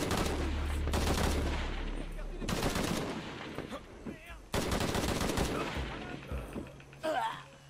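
Gunfire in Shadow of the Tomb Raider, bursts of loud shots in several separate clusters with brief pauses between them, while a voice talks at intervals.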